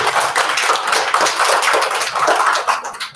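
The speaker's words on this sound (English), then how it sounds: "if we could all give Jonathan a clap" A school hall full of children and staff at a celebration assembly applauds a pupil for a swimming badge, steady, loud, dense clapping that runs the whole stretch, fading slightly at the end.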